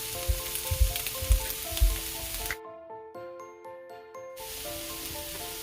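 Chopped zucchini sizzles and fries in a little oil in a pan, a steady crackle with a few stirring bumps, briefly giving way to soft music before the sizzle returns.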